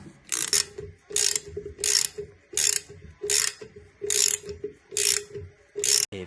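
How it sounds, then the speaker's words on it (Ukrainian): Ratchet wrench clicking in bursts as it tightens the mounting bolts of a toilet during a bathroom installation, about nine evenly spaced rapid runs of close, crisp pawl clicks with brief pauses between strokes. "я взяв тріщоточку, тріскалку"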